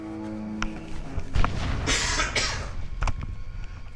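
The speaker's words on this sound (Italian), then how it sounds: "Tosse malefica." A person coughs harshly in a few rough bursts, close and fairly loud, over faint background noise and scattered small knocks.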